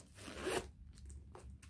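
A single zip pulled along a leather souvenir bag, one short rasping stroke close up followed by a couple of faint handling rustles.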